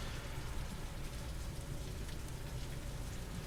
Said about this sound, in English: that's actually heavy rain overwhelming the guttering outside